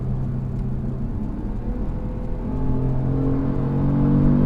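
A 2020 Kia Stinger GTS AWD engine and exhaust give a steady throaty drone from inside the cabin while driving, rising slightly in loudness toward the end, with no talking.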